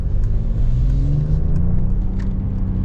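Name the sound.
2025 Mercedes G Wagon accelerating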